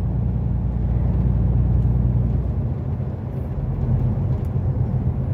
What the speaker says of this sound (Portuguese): Observe logo à frente, caminhão carregado com toras de madeira.